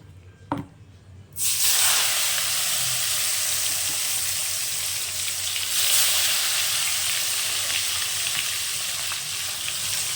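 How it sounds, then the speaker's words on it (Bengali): Salted, turmeric-coated mango pieces go into hot oil with five-spice and fennel, a sudden loud burst of sizzling after a brief clatter, then a sustained, close, steady frying hiss with no talking. "এর মধ্যে যে আম কেটে নুন হলুদ মাখিয়ে রেখেছি এবার আমি এর তেলের মধ্যে দেবো"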